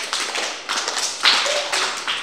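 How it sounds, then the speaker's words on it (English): A classroom group of learners at a Jolly Phonics session clapping together, a few quick rounds of close, slightly uneven claps over about two seconds. "Very good. Clap for yourself."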